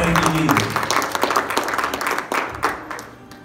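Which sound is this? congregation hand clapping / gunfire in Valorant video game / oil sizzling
congregation hand clapping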